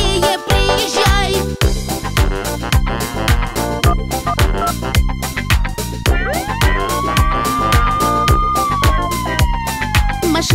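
A fire engine siren effect within a children's song rises as a gliding wail over the bouncy beat, then sustains and falls away, blended loudly with the music.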